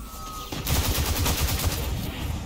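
Dense, rapid gunfire in the video game Destiny 2 bursts in after a brief quiet lead-in and keeps up as a loud, continuous volley of overlapping shots.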